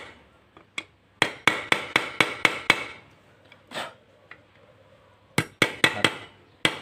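Sharp metallic hammer blows knock a bearing out of the fan of a Kubota walking tractor, a run of about eight strikes, a short lull with lighter taps, then another rapid series.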